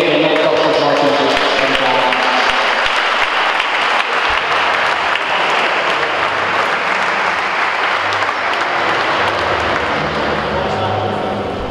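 Sustained, dense applause from a large crowd at a handball match, loud and steady throughout, with scattered cheers and voices mixed in.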